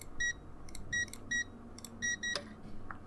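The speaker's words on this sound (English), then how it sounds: "Zach, pick up the phone for God's sake." A phone rings in the video game Answer Knot as a repeating electronic beeping pattern, short bright tones in quick clusters over a low background hum, fairly loud and steady.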